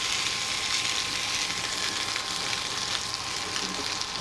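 Chicken frying in a pan for a chicken, bacon and mushroom slice, a steady, dense sizzle that stays loud and even throughout, close up with no voices.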